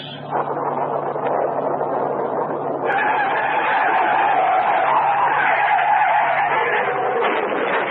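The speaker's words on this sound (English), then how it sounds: "Harry Clark's death from the skid that sent him hurtling through the guardrail and into the ravine" Radio-drama car skid, a long loud tyre screech that rises in pitch and intensity after a moment and holds, sustained and close, ending with the crash through a guardrail into a ravine.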